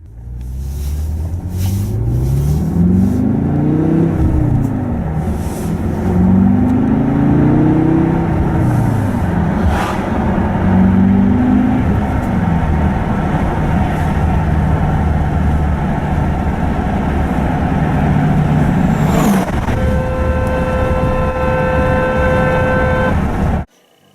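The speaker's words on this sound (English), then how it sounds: "We set the note to C natural, the sound of the car horn" Engine drone and revving fill the car cabin, then a steady car horn tone set to the note C natural sounds near the end, holding one unchanging pitch until it cuts off.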